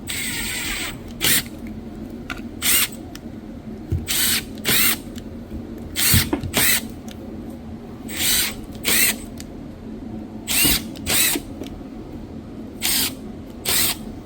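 Power drill boring a series of holes into a plywood cabinet, with short whirring bursts repeated about a dozen times, close and moderately loud over a low steady background hum.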